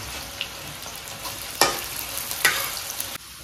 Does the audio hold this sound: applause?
no